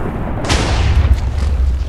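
Explosion in Minecraft during a lucky block versus iron golem titan battle, a single booming blast at mid-clip that rumbles low and fades out.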